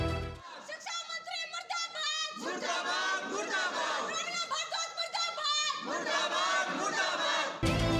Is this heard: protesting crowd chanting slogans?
yes